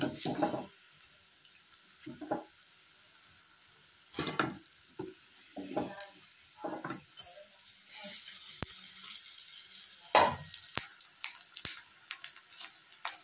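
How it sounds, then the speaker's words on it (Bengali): Pumpkin leaf chicken rolls frying in a pan, with a low sizzle beneath intermittent clatters and scraping as pieces are handled, close and fairly quiet. "আমি এইভাবে এক এক করে সবগুলোই ভেজে নিচ্ছি।"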